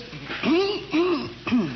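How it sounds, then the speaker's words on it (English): A voice clears its throat several times in short, rough bursts, each a brief rising-falling rasp, close and fairly loud. "I was just clearing my throat"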